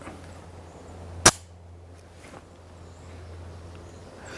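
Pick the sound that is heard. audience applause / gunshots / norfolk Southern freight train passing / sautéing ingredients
gunshots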